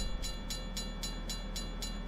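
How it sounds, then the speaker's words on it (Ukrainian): A train rolls past a rural level crossing at the 38 km mark, its wagons giving a steady, evenly spaced rhythmic clatter of wheels over rail joints at close range, with no voices. "Потяг приїхав"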